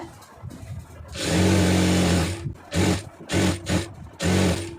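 An electric sewing machine stitches chudidar pant fabric in loud, close bursts, with a long run followed by several shorter starts and stops and brief pauses between them.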